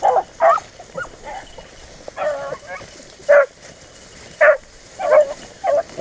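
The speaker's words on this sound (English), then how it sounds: "See that red dog running the track." A pack of beagle hunting dogs bays and yelps in repeated, spaced bursts while running a rabbit track in North Carolina, fairly close and loud, with people talking in between.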